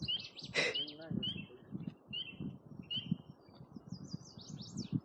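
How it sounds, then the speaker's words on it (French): Several small birds chirp and tweet in high bursts on a forest trail in Jacques-Cartier National Park, one louder squawking call near the start, over low rustling and footsteps. "C'est un oiseau qui est en train de crever."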